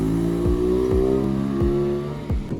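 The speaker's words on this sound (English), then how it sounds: "So he's doing a road test right now on my RX8" Mazda RX8 driven on a road test, its engine revving up through repeated rising pulls with brief dips between gear changes, a steady near drone and no talking.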